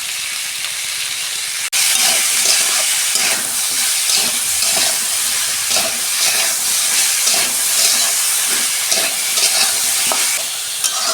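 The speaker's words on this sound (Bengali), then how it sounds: "এগুলো ভালো করে আমি ভেজে নেবো মিক্সে" Mixed vegetables with salt fry in a pan for veg biryani, giving a loud, dense hiss and sizzle that starts abruptly and holds steady, broken by rhythmic stirring scrapes, with no talking.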